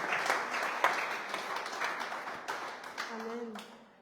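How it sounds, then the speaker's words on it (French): A congregation applauds at a men's church service, a burst of clapping that is strongest at the start and thins out over a few seconds, with a voice speaking briefly near the end. "Acclamez bien."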